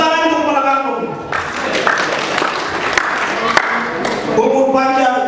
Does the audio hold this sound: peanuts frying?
no